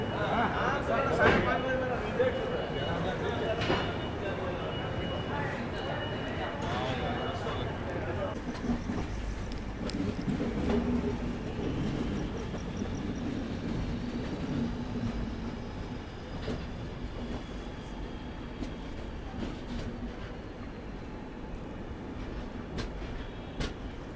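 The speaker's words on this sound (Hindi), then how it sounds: "रात के अंधेरे में और ठंडे मौसम में धीरे धीरे डिपार्ट कर रहे हैं हम लोग टाटा नगर रेलवे स्टेशन से।" An Indian passenger express train slowly departing Tatanagar railway station at night in cold weather, with a steady low rumble of wheels and carriages, faint squeals, and someone talking over the noise.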